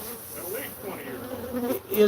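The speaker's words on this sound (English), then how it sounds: "Boy, look at all those bees." A dense swarm of bees crawls over black comb inside a house wall, their steady, close buzzing droning continuously with shifting pitch.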